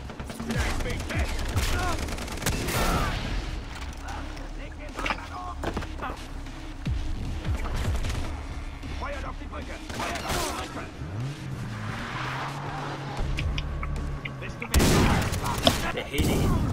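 Far Cry 3 gunfire with bursts of rapid machine gun shots, explosions and engine noise, loud and close, with a voice talking over it.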